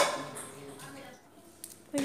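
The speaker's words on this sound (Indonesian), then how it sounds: "Lagi taruh piring." Plates being set down on a surface in a home, with a soft clink or two of dishes and cutlery close by, fairly quiet, under a child's and an adult's voices.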